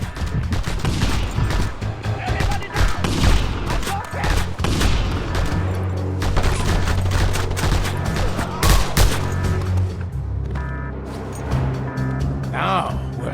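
Rapid gunfire from a mounted gun in the Just Cause 2 video game, dense and loud bursts mixed with vehicle rumble and explosions, continuing throughout with voices talking over the combat.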